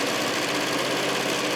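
A sewing machine stitches a quilted table runner made from charm packs, running in a steady, unbroken motor whir with a dense mechanical buzz at close range.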